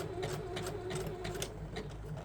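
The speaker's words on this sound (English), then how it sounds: "And then I'm just going to reverse stitch" A sewing machine runs steadily, reverse stitching to anchor elastic. The motor hums evenly for about two seconds, with a quick needle rhythm that stays close and clear.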